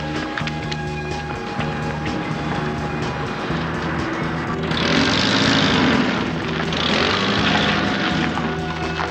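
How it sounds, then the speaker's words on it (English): A bus engine races out of control, a dense, steady roar that surges louder halfway through and stays strained, with no talking over it. "The engine just went crazy."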